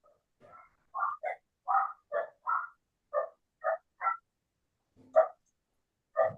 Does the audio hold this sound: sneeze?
no